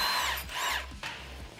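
A power tool or impact driver whirs in short bursts up close, loud and alone, as the bolts are taken out of the primary and secondary clutches of a Polaris General.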